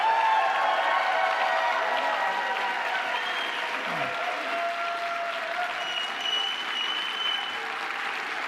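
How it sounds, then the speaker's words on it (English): A television talk-show studio audience applauds steadily and fairly loudly, a dense even wash of clapping that holds for the whole stretch without breaks. "that applause, this is a real studio audience"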